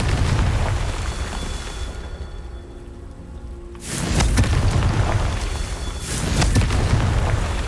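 A Confringo blasting spell explodes in the Hogwarts Legacy video game, a loud rumbling boom that swells in, drops away briefly, then returns with crackling debris-like noise.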